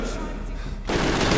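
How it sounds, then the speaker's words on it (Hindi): A burst of machine gun fire in the Medal of Honor Warfighter video game, loud and close, breaking in suddenly and continuing as a dense rattling volley. "मशीन गन वाला होगा पक्का"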